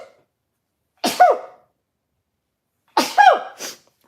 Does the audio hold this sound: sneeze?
yes